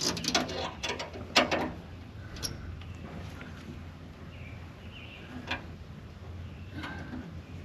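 Close, quick bursts of clicking from a wrench ratcheting while a trailer is worked on, busiest at the start and then sparse with single ticks, over a quiet outdoor background.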